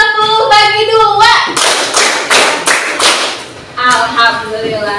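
Classroom group clapping a counted rhythmic pattern during a teaching session: a few sharp claps separated by pauses, loud and close, with a teacher's voice talking between the claps.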